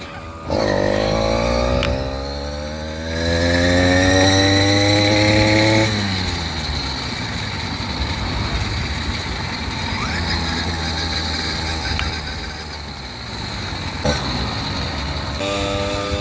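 A small motorized bicycle engine catches at once and keeps running loud and close, its pitch climbing as it revs up, then easing into a steady buzzing drone on the road.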